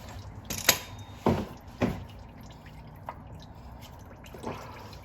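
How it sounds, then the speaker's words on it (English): Oil filter housing on a 2014 Toyota Corolla being slowly unscrewed, giving a few separate close clicks and ratcheting snaps with quiet gaps between, over low steady background noise. "we're slowly spinning out the filter housing"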